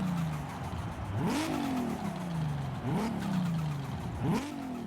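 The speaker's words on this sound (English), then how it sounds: "just listen to this turbo blow off." A 1998 Toyota Supra drag-tuned to 1600 hp in Forza Horizon 5 revs repeatedly, each climb ending in a sharp turbo blow-off hiss, three or four cycles in a steady rhythm, moderately loud and unaccompanied.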